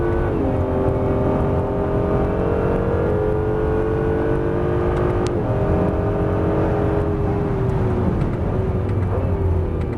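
A Honda NSX accelerates hard out of a fast right-hand corner at the Estoril circuit, its engine note rising steadily, loud and close, with a brief gear-change dip midway before climbing again.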